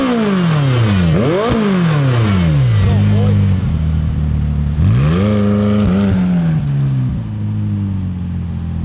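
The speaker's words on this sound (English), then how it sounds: "Rigo, do a donut" A Lamborghini, one of an Aventador SV, 600LT or twin-turbo Huracán, revs hard while spinning a donut, its engine pitch sweeping up and down repeatedly in loud, close surges with tire and engine roar throughout.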